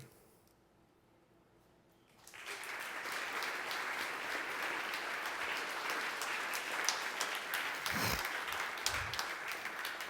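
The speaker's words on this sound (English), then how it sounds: "A big round of applause for Dirk." Quiet room tone for about two seconds, then a conference audience breaks into sustained applause that stays loud and dense to the end, with a couple of soft thuds near the close.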